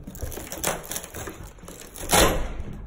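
A wooden door being smashed with a hammer, a few crunching, splintering blows with the loudest impact near the end, close by and in the open.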